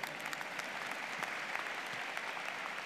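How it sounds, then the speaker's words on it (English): Audience at a college commencement applauding in a steady wash of claps, fairly faint and distant, lasting a few seconds with no talk over it. "You may applaud."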